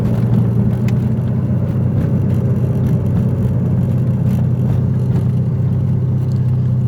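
A Mazda RX7 FC with a street-ported rotary engine idles steadily at about 1,000 RPM, a loud, close, continuous lumpy drone with no talk over it.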